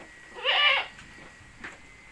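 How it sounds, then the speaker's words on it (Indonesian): A goat on a farm, one of a herd offered for sale, lets out a single loud bleat, followed by quieter faint animal sounds, with no talking. "Yuk, kita update kambing-kambing yang akan kita jual hari ini"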